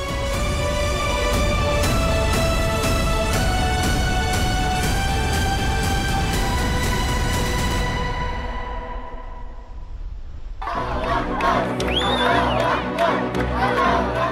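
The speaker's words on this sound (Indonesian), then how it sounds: "Sorak-sorai dan rasa syukur mewarnai reaksi warga Gaza atas kesepakatan gencatan senjata" A large crowd of Gaza residents cheers and shouts over a ceasefire deal. The loud, dense roar swells in after a stretch of music fades out, then carries on to the end.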